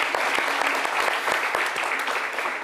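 Steady applause from a studio audience on a French talk show, dense and continuous throughout with sharp individual claps standing out, fairly close and loud with no talking over it.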